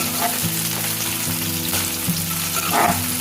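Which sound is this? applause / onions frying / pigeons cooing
onions frying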